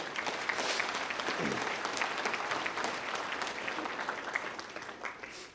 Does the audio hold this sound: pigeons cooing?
no